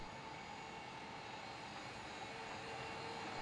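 CityCat 2020 EV electric compact road sweeper running, giving a steady, even whirring hum with a faint tonal whine and no changes in level.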